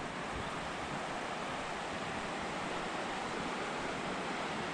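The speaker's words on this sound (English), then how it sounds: "Must be nice listening to the sound of the river." A river rushes steadily past a residential street of houses in Tokyo's mountain area, a dense unbroken wash of flowing water heard fairly near, with no voices.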